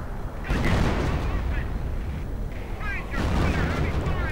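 Artillery fire in a war strategy video game, heavy low rumbling blasts swelling in two bursts over a dense battle din, with a commentator speaking over it.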